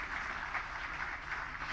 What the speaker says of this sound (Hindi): जोरदार तालियों से हम आपका स्वागत और अभिनंदन करते हैं